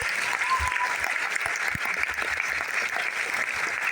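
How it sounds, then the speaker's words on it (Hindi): An audience at a business plan presentation applauds steadily, a continuous wash of many hands clapping at moderate loudness that sustains without a break and with no talking over it. "आपके जबरदस्त तालियों के साथ ओपन होने जा रहा है।"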